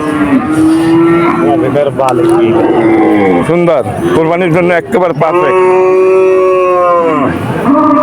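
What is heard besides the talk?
cattle mooing at market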